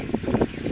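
Wind blows outdoors on a chilly day, buffeting the microphone in short, uneven gusts of rushing noise.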